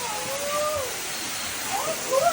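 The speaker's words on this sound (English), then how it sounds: "Oh, you can see the waterfall from here." Waterfall heard from a viewpoint inside The Green Planet indoor rainforest in Dubai, a steady broadband rush of falling water filling the whole clip, with faint whistle-like tones drifting over it.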